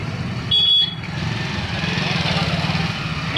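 A motorcycle engine idles steadily on a village road during a snake rescue, a low rumbling drone throughout, with a brief high beep near the start and faint voices in the background.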